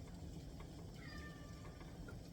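A house cat gives one drawn-out, rising meow in a kitchen during cooking, close and clear over a low background hum.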